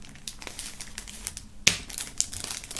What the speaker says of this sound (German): werden wir mal hier einmal den Patch oder die beiden Patches sowie auch die Jacke aus der Folie holen